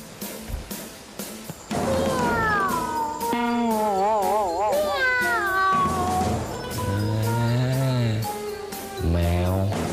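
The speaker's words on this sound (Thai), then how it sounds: "แมว" A cat meows repeatedly and loudly up close, a series of long, wavering, drawn-out cries that rise and bend in pitch, some stretching into a caterwauling wail.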